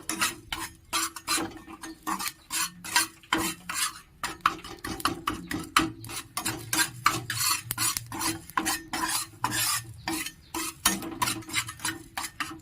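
Dry spices are stirred and roasted in a pan with brisk, rhythmic scraping strokes, close and fairly quiet, repeating steadily with no voices.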